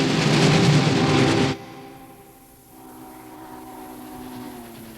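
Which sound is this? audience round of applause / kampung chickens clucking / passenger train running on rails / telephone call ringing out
passenger train running on rails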